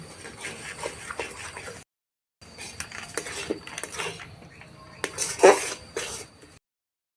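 Semolina is stirred in a pan, with a spoon scraping and clinking against the metal in irregular close strokes, broken by short silent gaps.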